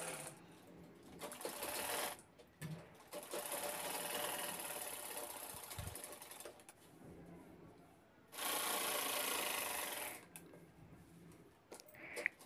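Sewing machine stitching a lining pocket, with double stitching at the joint, running in long steady bursts of rapid mechanical chatter separated by brief pauses, close and clear.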